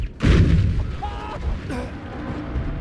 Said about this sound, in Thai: รถถังมันยิงอัดกำแพง